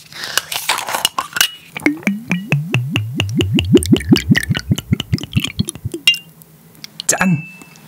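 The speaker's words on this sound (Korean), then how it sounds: "이거 따를 때 똥똥똥똥똥똥똥똥 소리 나는데" Dark black soju poured from a bottle into a glass makes a quick, close run of about a dozen hollow glugs that slow slightly toward the end, followed by a faint clink.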